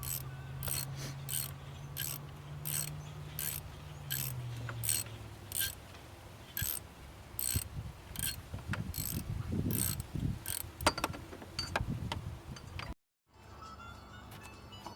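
Ratchet wrench clicking in rapid regular bursts while snugging bolts on the power steering pump reservoir of a 1996 Jeep Grand Cherokee, close and fairly loud, with a low mechanical hum early on and a brief dropout near the end.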